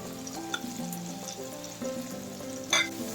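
Halved large shrimp frying in a pan for a togue and chicken strip dish, a soft steady sizzle with small crackles and a faint clink near the end, fairly quiet, no talking.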